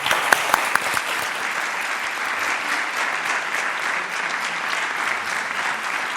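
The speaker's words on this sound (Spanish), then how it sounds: "pido un aplauso para todos los amigos de Brines" Sustained, dense applause from a live audience in Madrid, with a few sharp claps standing out at the start, steady and fairly close throughout with no talk over it.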